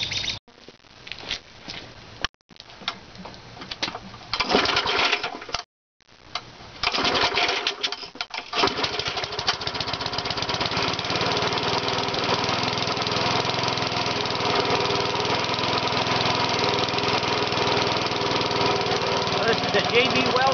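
A small single-cylinder engine fitted with a connecting rod repaired in JB Weld starts after a few sputtering tries, then runs steadily with a loud buzzing rattle, with speech heard during the start.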